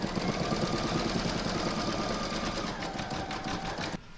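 An embroidery machine stitching a satin stitch border around an acorn cupule on a placemat, a rapid steady mechanical hum and tapping that runs evenly and then cuts off abruptly near the end, with no talking.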